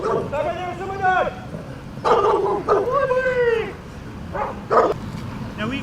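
A pet dog barks and whimpers in short yelping bursts, with a person's voice talking over and between the calls.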